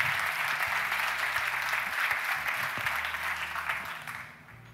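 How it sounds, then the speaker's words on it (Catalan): Audience applause for the speakers of a round table on LGBTIQ+ policy in local government, a dense steady clatter of many hands that fades slightly at the end, with faint low background hum. "Un fort aplaudiment per Alfred Matamala, Judit Joanix, Elena Longares i Josep Maria Mesquida"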